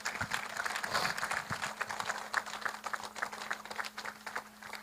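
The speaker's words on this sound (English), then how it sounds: "They deserve a round of applause." A crowd claps and applauds steadily for several seconds at a Bahamas primary school awards event, a dense crackling wash of hands that never quite peaks or stops.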